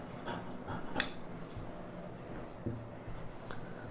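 Scissors snipping straight through blouse lining fabric, a few soft, close crisp cuts with one sharper snip, alone and without talk.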